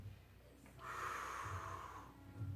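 A single steady exhalation during a back-strengthening workout, a soft breathy rush of air lasting over a second, close and moderately loud against a quiet room hum.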